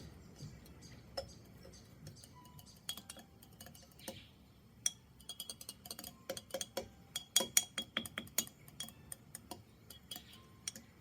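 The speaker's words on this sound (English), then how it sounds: "So you use a bit of stirring action, clockwise, counterclockwise, a bit of sideways action." Light clinking and ticking of a utensil stirring tempera emulsion inside a glass container, irregular taps that grow busier and sharper toward the middle, faint and close with no voices.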